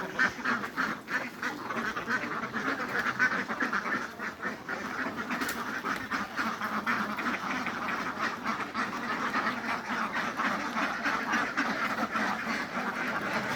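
Ducks at a duck farm quack steadily throughout as a dense, continuous flock chorus, moderately loud with no talking.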